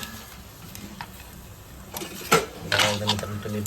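Chopped raw mango being mixed in a metal pot for a village-style grandmother's recipe, with a few clinking scrapes and clatters of utensil against metal, growing louder toward the end.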